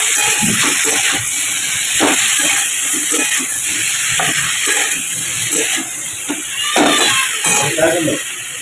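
Broccoli and potato frying in hot oil, a loud steady sizzle and hiss filling the whole stretch, with occasional stirring scrapes and a voice talking faintly underneath.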